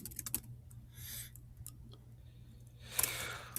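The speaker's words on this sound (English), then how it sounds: "What are you typing now?" Bursts of quick key clicks from someone typing on a computer keyboard, close and fairly quiet, with pauses between runs over a low steady room hum.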